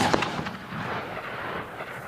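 One loud boom from a shotgun firing a 3.5 inch round opens the clip, then a long rumbling tail fades away outdoors.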